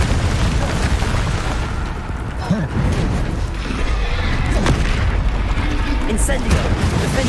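Confringo and other spell blasts in Hogwarts Legacy come as loud, continuous explosive booms and crashes, with a voice talking over them.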